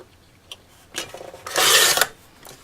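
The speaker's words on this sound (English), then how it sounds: "so I'll cut the inch off of this side" Scissors or a blade slice through a sheet of paper for a handmade vintage wallet notebook, a few light scrapes building to a longer, brighter rasping cut up close, with no talking.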